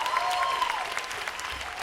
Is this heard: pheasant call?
no